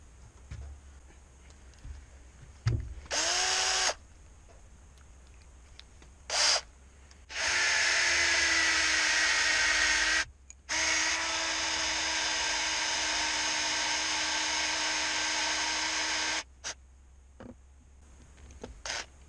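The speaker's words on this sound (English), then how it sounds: "your drill bit don't start walking off on you whenever you're trying to get your hole drilled" Power drill boring a hole through metal for a budget Barrett bipod build, starting with brief spurts and then running in two long steady whining stretches, loud and close with no talking.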